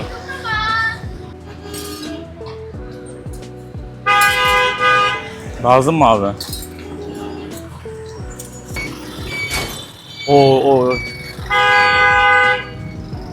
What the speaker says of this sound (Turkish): Sürekli bu lanet korna sesi ya.